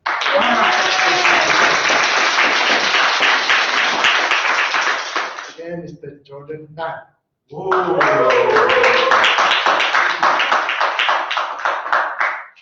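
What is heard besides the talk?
round of applause for guests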